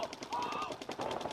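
Paintball markers firing in quick rapid bursts at an NRXL tournament match, sharp popping shots in fast succession mixed with distant crowd and field noise, with a commentator's voice under it.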